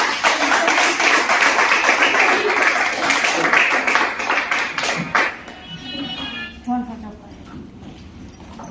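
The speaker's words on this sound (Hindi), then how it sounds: "तो उनका जोरदार ताली का स्वागत करेंगे।" A crowd at a product demo meeting claps loudly and steadily to welcome the leaders, a dense wash of applause that lasts about five seconds before thinning out, followed by a few scattered claps and quieter room sound.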